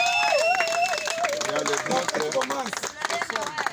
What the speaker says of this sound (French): nous pouvons applaudir pour notre bienfaiteur